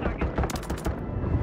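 Pistol gunshots in the video game Warzone, a rapid close burst of several sharp cracks in the middle of the moment, with game noise and voices around them.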